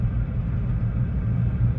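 2016 Chevrolet Spark EV with a battery-system fault, driving with the accelerator floored but limited to about 1 kilowatt of power; a steady low road and cabin rumble, continuous and fairly loud, with no voices.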